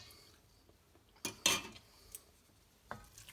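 A spoon clinks and scrapes against a pan of pea and spring onion risotto in a few brief, sharp metallic strikes, with one louder scrape near the middle, in an otherwise quiet kitchen.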